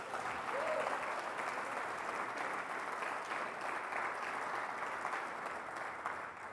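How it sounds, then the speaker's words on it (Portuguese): A church congregation applauding, sustained even clapping from many hands filling the room for several seconds, tapering slightly at the end. "Você pode aplaudir a Deus por isso?"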